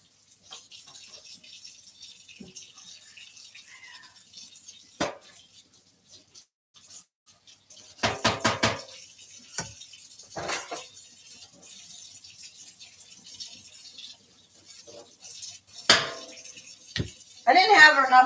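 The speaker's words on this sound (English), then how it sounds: "I didn't have enough dishes really to run a whole sink full, so I'm just doing it like this." Dishes washed by hand at a home kitchen sink, with scattered clinks of plates and cutlery and short bursts of running water, joined by a voice talking intermittently throughout.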